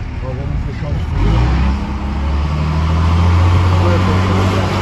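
A brand-new Dodge Ram pickup truck with a straight-pipe direct exhaust revs loudly and close by, its deep rumble swelling and holding at high volume; no one speaks in the clip.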